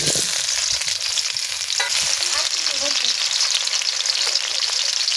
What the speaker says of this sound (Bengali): এখানে আলু ভেজে নেব।